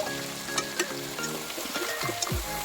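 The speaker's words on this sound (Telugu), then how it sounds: "ఇవన్నీ కూడా కొంచెం ఫ్రై చేసుకోవాలి" Tomato and capsicum pieces fry in a hot pan with a loud, dense, continuous sizzle, broken by a few faint clinks and stirring scrapes close by, and nobody speaking.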